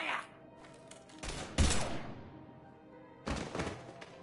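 Gunfire in the video game Mass Effect 3: a few heavy, thudding shots in separate bursts, with quieter stretches between them.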